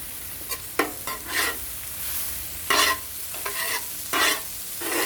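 Prawns frying on a very hot BBQ plate, crackling and sizzling steadily, with bursts of louder sizzle as they are stirred and turned, close up and without voices.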